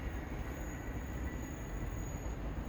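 Trains pass at Stafford on the West Coast Main Line, a steady distant rumble of wheels on rail with a faint high tonal whine, no voices.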